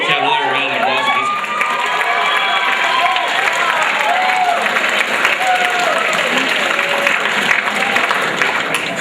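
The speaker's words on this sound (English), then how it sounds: "Let's have another round of applause" Sustained audience applause at a school show, steady clapping from a crowd filling the whole stretch with scattered cheers and young voices calling out over it.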